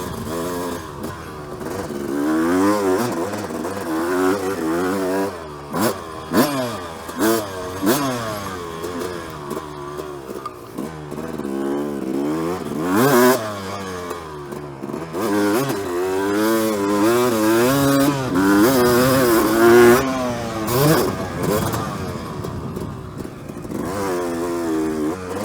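A Suzuki motorcycle fitted with a new Lectron Pro carburetor revving hard while being ridden, its engine rising and falling through gears in a loud, close, continuous snarl with no talk.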